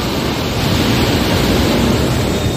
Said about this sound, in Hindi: यहाँ से आ रहा पानी है। देखो ये हरिद्वार से आ रहा डैक।